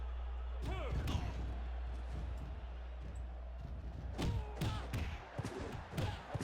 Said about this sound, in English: Oh, crucifix bomb.